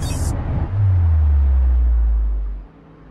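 Dense city car traffic in an African city, a low, heavy rumble swelling loud and steady for about two seconds after a brief burst of hiss, then cutting off sharply.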